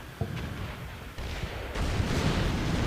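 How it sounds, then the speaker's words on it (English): Artillery shells fall among enemy units in a war strategy video game, a steady rumble of distant blasts and booms with a few sharper impacts, growing louder and denser toward the end. "I got my artillery falling down in among them as well"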